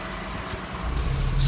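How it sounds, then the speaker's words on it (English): Lorries and cars pass on a road near Lake Windermere, a rumbling engine roar building louder over a second and a half with a brief hiss near the end. "Still keeping an eye open for cars and lorries."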